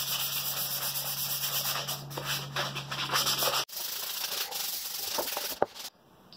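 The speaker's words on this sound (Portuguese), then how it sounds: "Ela já secou e vou lixar a peça." A shellac-coated wooden brush holder is sanded by hand, with steady rhythmic scratchy rubbing strokes close up, a brief break partway, then more sanding ending in a sharp knock.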